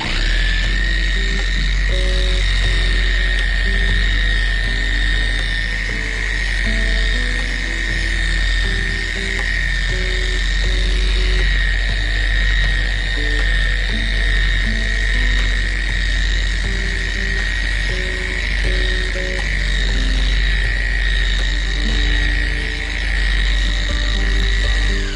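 A power buffer with a buffing pad polishes freshly varnished wood, giving a continuous droning hum with a steady high whine that runs unbroken and fairly loud throughout, with no talking.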